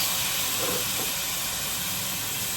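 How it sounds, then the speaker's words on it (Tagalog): Light soy sauce hitting a hot pan while braising pork Chinese style, giving a steady, loud broadband hiss of sizzling throughout. "Lagyan natin ng 1 tablespoon of light soy sauce"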